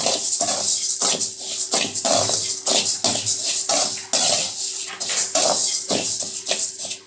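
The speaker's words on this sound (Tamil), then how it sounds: "இப்போ உங்களுக்கு அந்த பொரியிற சத்தம் கேட்கும் பாருங்கள்." Dry rice grains crackling and popping while roasted in a pan, a dense, fast run of sharp crisp pops sustained throughout with no voice present.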